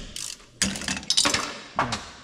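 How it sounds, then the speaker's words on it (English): A hand ratchet clicks as it cracks loose the rocker arm bolts on a turbocharged LS 5.3 engine during a heads-on cam swap. Several short, close bursts of ratcheting sound are separated by brief pauses. "So I'm just gonna crack loose all of the rocker arm bolts here."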